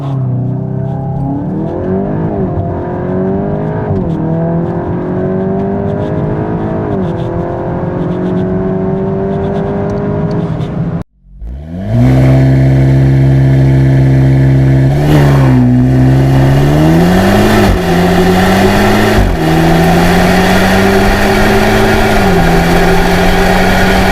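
A VW Golf GTI Edition 50 launches from a standstill and accelerates hard to 100 mph: the engine drones loud and close through rising revs, a brief cut, then strong pulls with several gear-change dips, and no one talks.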